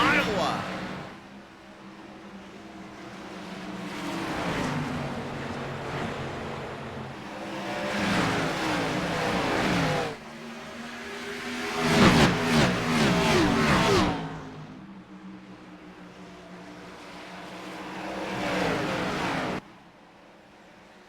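Race cars roar as they accelerate after a restart at Iowa in an iRacing sim race, engines swelling and passing in loud surges with a sharp burst near the middle, under steady commentary.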